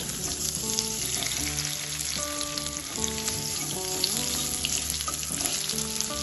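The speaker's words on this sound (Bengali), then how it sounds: "আলুগুলো 2 থেকে 3 মিনিট ভেজে নিয়েছি, এবার আমি এগুলো তেল থেকে তুলে নেব" Potatoes frying in hot oil in a wok, a steady loud crackling sizzle throughout with faint clinks of stirring and music playing underneath.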